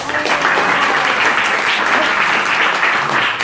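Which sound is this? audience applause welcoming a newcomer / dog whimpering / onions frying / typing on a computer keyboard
audience applause welcoming a newcomer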